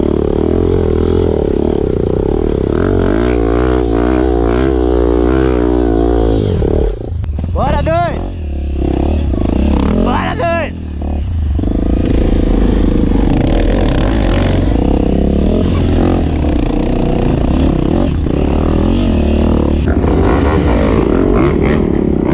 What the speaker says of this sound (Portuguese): A moto ajuda, né, moço? Moça, a moto sobe sozinha. A moto vai sozinha, né?